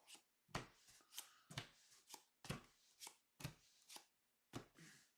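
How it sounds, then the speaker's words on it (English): Repeated quick riffle shuffles of a villain card deck during a tabletop game, about eight crisp bursts of cards in a steady rhythm, close and alone. "We're going to shuffle it."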